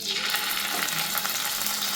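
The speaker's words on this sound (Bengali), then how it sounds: "এরপরে আমি যে মাছগুলো রেখেছিলাম সিদ্ধ করে, সেই মাছগুলোকে আমি এখানে ভাজতে দিয়ে দেবো" Boiled fish pieces frying in hot oil for a fish shukto, giving a steady close sizzle with crackling spatter throughout, no talking.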